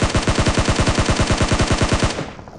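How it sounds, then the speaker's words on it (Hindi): Rapid automatic gunfire in PUBG Mobile, a loud close burst of about twenty evenly spaced shots that stops abruptly and leaves a short fading tail. "बंदे पे तो फायर कनेक्ट नहीं हुआ लेकिन टायर पे कनेक्ट हुआ और टायर उसका फूट जाता है।"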